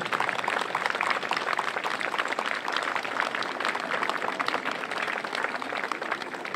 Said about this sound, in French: Et on peut applaudir très fort